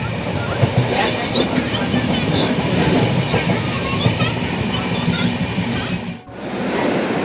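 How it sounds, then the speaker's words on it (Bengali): Loud, busy platform ambience at Howrah station in Kolkata, with a train rumbling and rolling alongside steady crowd noise and voices, plus a brief dip near the end. "ট্রেন থেকে নেমে আমরা এখন দাঁড়িয়ে আছি হাওড়া স্টেশনে"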